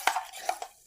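Quick light clinks of a spoon stirring a mint drink in a glass, three or four soft taps within a second, close and quiet.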